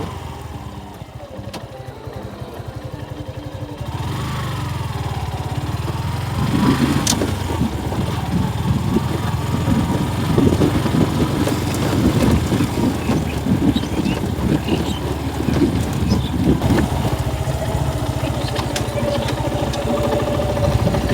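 A Suzuki Gixxer SF motorcycle engine drones steadily while riding, a low continuous hum that swells slightly after the first few seconds and holds throughout, with wind and road noise mixed in.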